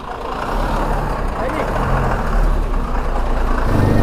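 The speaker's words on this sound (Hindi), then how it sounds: "तो ये गई चंद्रनगर वाली गाड़ी।" A passing car or truck headed for Chandranagar on a mountain road pulls away, its engine a steady rumble that grows louder toward the end, with talk mixed in.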